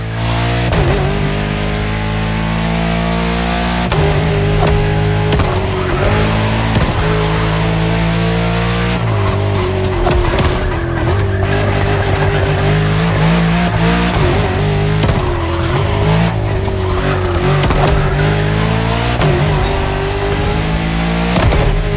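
The Accolone, a French luxury hypercar, driving hard in The Crew Motorfest, its engine loud and steady, revving up and down through gear changes with tire noise, close and continuous, no talking.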